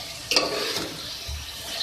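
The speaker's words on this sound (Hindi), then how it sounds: "तो अच्छे से मिक्स कर लीजिए," A spoon scrapes and stirs potato and cabbage sabzi in a pan, a brief soft clatter over a low, steady sizzle.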